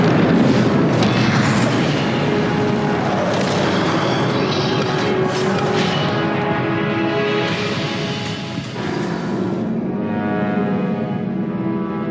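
A Confringo blasting spell goes off in Hogwarts Legacy on PS4, a loud, sustained booming explosion with a broad rumbling roar and crackling debris that rolls on for several seconds before easing slightly.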